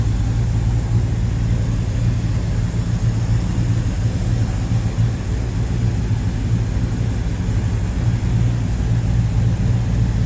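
A 1968 Chevrolet Chevelle Malibu two-door hardtop with a 350 small-block V8 runs smoothly at idle, a steady, loud, low rumble with no talk over it.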